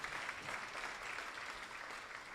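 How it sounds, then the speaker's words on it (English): Audience applause at an oath-taking ceremony attended by a minister: a steady, even wash of clapping from a crowd, fairly faint and sustained throughout without a break. "Please let's give them a round of applause"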